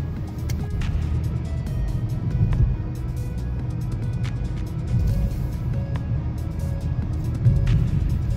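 2019 Toyota Corolla Hatchback XSE, 2.0L, with a muffler delete, cruising on a road, giving a steady low exhaust drone with road and tire noise and slight swells, fairly tame and even throughout.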